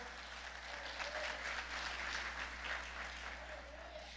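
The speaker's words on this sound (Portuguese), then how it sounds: "aplauda o Senhor" A church congregation applauds during a morning family worship service, steady clapping that swells slightly in the middle and holds at a moderate, fairly distant level throughout.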